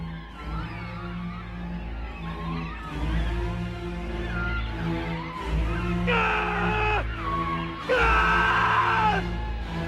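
A man screams and yells in terror over a loud rumbling backdrop in the 1992 film Dracula, his cries rising sharply and intensifying toward the end.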